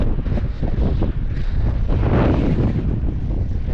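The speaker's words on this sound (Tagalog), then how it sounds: "Pasensya na po sa lakas ng hangin." Strong wind buffets the microphone on a shoreline fishing spot by the water, a loud, continuous low rumbling roar that swells and gusts throughout, with no speech over it.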